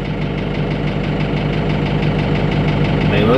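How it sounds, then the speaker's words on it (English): A tractor engine idles close by with a steady, loud, knocking chug, alone without talk, at a barn construction site. "Let me go park this tractor"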